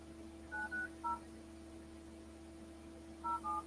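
Telephone keypad tones beep in two quick clusters, a few short dialing tones near the start and a few more near the end, over a faint steady line hum.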